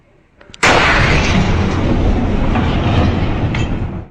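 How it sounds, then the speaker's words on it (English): Asteroid explosion over Russia: a sudden loud blast bursts in, then a long, broad roaring rumble holds steady for several seconds before fading at the end, with no voices. "Asteroid crash."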